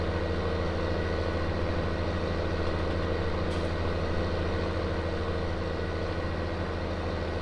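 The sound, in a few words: tractor engine in Farming Simulator 19 video game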